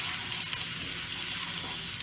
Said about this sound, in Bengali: এবার এটা একটু ভাজা ভাজা হোক